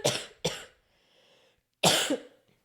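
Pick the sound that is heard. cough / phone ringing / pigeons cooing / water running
cough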